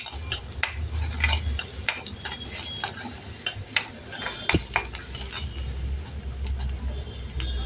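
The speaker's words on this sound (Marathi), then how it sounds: "कांदा जास्त आपल्याला लाल असा काळा नाही करायचा आहे, थोडासा ट्रान्सपरंट होईपर्यंत भाजायचा आहे." Onions sautéing in a pan for sukat jawla, a dried tiny shrimp dish, sizzle softly under frequent rhythmic spatula clicks and scrapes, with one louder knock midway.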